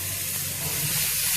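Soya chunks dropped into a hot tempering of oil and curry leaves for Navarathri sundal, giving a steady close sizzle and hiss with faint stirring and no voices.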